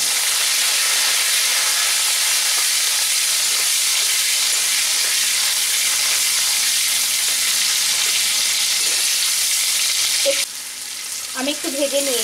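Chopped tomato hits hot oil and fries for Gati Kochur Dom, giving a steady, loud, close sizzle that runs throughout, with a brief stir or clatter near the end.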